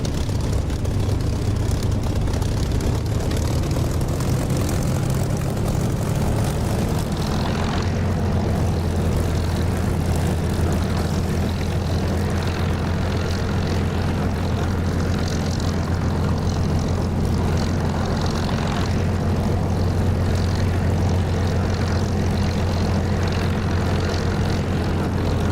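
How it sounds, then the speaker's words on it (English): Propeller aircraft engine in the DCS flight simulator game, a loud steady droning roar with a low throbbing hum that holds constant throughout. "You can hear Laxor's already airborne."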